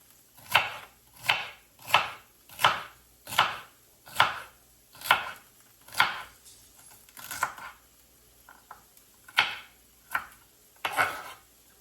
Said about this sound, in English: Real thin, very thin diagonal cut.